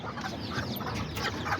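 Kikiriki hens and their chicks cluck and peep in a busy, continuous chatter nearby, with overlapping calls and no talk.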